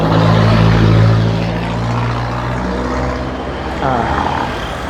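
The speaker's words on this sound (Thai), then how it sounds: "เสียงรถวิ่งผ่านไปผ่านมานะครับ" Vehicles roar past on a road beside a car paint repair shop, a loud engine rumble that builds and fades before another passes, with no talking.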